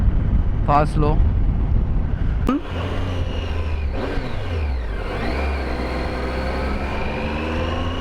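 A Triumph Tiger 800XRx motorcycle riding on a steep, rough road, its engine droning steadily under heavy wind noise, with shifts in pitch as it speeds up and slows. A short voice is heard near the start.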